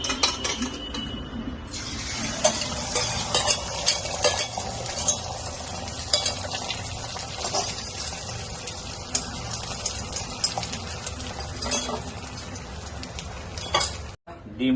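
Eggs stirred and frying in a pan at home, a steady scraping and sizzling clatter held close and fairly loud for the whole stretch, cutting out briefly near the end.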